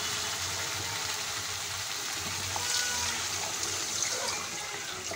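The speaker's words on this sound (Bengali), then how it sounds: "দিয়ে দিচ্ছি জল পরিমাণ মতো।" Water poured into a pan of masala for a Bengali village-style fish curry makes a steady, even rushing wash that holds for several seconds at moderate loudness, with no voices.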